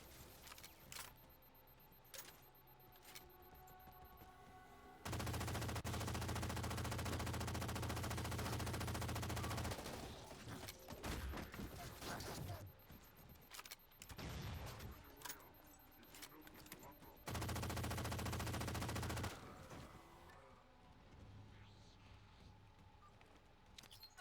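SAW machine gun in Halo 4, fired in long sustained bursts that dominate the foreground, with loud stretches broken by shorter gaps and sporadic shots.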